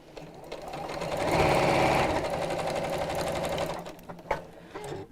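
A domestic sewing machine stitches a quarter-inch seam on an unpinned gift bag, a loud, steady mechanical whirr running continuously for several seconds, then a few short bursts near the end.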